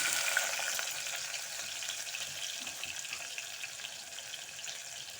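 Cardamom, cumin and pepper sputter in hot oil for a peas pulao, giving a steady, dense crackling sizzle that holds throughout and fades slightly toward the end.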